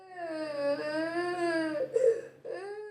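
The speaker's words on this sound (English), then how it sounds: "to the cries of a child" A young child cries on waking for school, a drawn-out wailing sob that breaks into a catch of breath and then resumes, close and alone.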